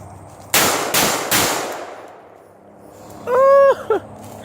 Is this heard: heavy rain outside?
no